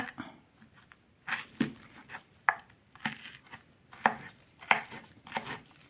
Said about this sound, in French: je vais faire des tout petits morceaux aussi pour couper les échalotes